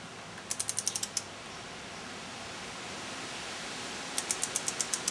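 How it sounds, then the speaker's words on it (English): A torque wrench clicks in two quick bursts of about seven sharp ratchet ticks each, one early and one near the end, while tightening a valve cover bolt on a 2000 Mitsubishi Galant SOHC 4G64, against steady background hiss. "torque slowly until you hear that pop so you don't over torque it"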